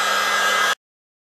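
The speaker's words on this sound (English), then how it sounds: "drying this is also easy with a little bit of hot air" A hot air blower drying the repaired surface of an AXN model airplane nose, a loud steady whoosh that cuts off abruptly after under a second.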